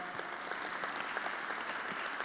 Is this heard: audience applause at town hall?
yes